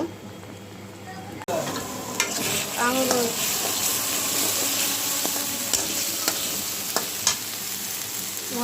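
Spice paste with kalo jeera frying and being stirred in a pan for a hilsa fish head and tail curry, a loud continuous sizzle broken by scraping stirs and a few sharp clinks, close up, with no talking.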